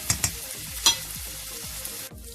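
Bacon and onion frying in a pan while cooking Ukrainian borscht, with a low sizzle under a few sharp clinks and scrapes of stirring near the start, then steady frying alone.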